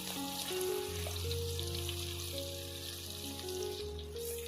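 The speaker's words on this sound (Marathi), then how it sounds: "ठेचून ठेवलेली लसूण घालूया." Crushed garlic frying in half a cup of oil in a large kadhai over a wood-fired stove, a steady close sizzle that runs without a break, with faint tonal background sounds and no talking.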